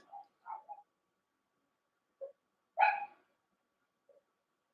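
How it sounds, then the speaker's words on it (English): Dogs bark in a few short, sparse bursts indoors, faint and somewhat distant, with quiet gaps between the yaps and one louder bark near the middle. "What are my dogs barking at?"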